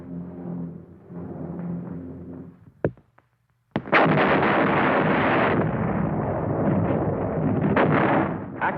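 Heavy artillery fire from a 1945 war documentary: sustained rumbling barrages with a sharp blast near three seconds, a brief hush, then another sharp report leading into a long, loud roaring bombardment.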